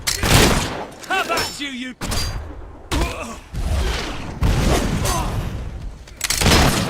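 Bursts of gunfire and booming impacts from Fable 3 erupt in loud, uneven volleys across the scene, with shouting voices cutting in between the shots.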